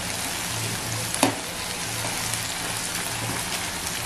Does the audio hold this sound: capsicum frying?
yes